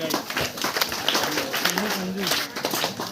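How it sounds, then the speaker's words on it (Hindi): Applause at a women's empowerment fair in Jodhpur, a crowd clapping steadily at close range while a voice speaks over it. "जोरदार तालियां।"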